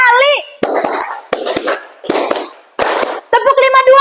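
Schoolchildren in a classroom clap a counted pattern, repeated short bursts of many hands slapping at once, set between brief spoken prompts from an adult voice.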